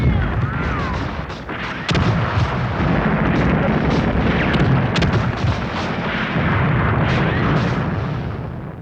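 Battle explosions from grenades boom and crack one after another, loud and dense with sharp bursts over a constant roar of combat, while a voice talks faintly beneath.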